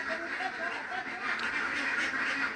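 Ducks at a rural Thai family home quack repeatedly in a steady, overlapping chatter at moderate distance, with faint background noise throughout.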